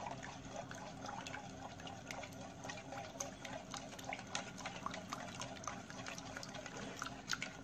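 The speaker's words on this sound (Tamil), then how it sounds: "க்ரீம் போட்டு கலக்கிறேன் நான்." Cream stirred into cooked sago pudding makes a faint, steady wet churning with soft irregular clicks of a spoon against the pot, distant and quiet throughout.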